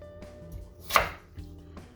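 Knife chopping celery, carrot and onion into small rounds for a mirepoix on a cutting board, a few separate muffled thuds with one louder cut in the middle, close and quiet with no talking.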